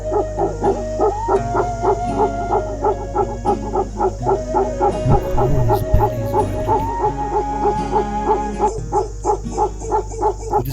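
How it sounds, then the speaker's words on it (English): A Himalayan livestock guardian dog barks without pause, a fast, regular run of deep, booming barks repeated steadily for the whole stretch, loud and close over a constant low hum. "This quality of barking. Bark without break."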